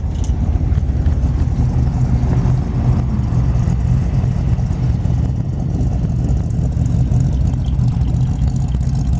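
A 1932 Ford Roadster hot rod engine runs steadily at a close, loud idle, its deep rumble continuous throughout with no voices.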